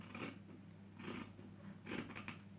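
Scissors snip through sewing thread, a few short, quiet clipping sounds spaced apart over a low steady background hum.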